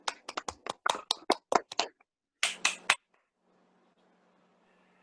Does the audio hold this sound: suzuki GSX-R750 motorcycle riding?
no